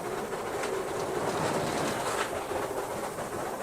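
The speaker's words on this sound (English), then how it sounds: "The brief rumbling noise you're about to hear on the footplate, which sounds like crossing a bridge, is in fact the engine slipping." A steam locomotive's wheels slip while running, heard from the footplate as a dense, steady rumbling roar with rapid clattering texture, close and loud throughout without talk.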